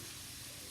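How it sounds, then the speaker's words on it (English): Fresh bacon fries in a skillet, giving a dense, continuous close-up sizzle and crackle that holds steady throughout. "fresh cooked bacon frying in the skillet"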